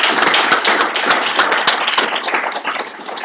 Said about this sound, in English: How about another round of applause for Bill McKibben?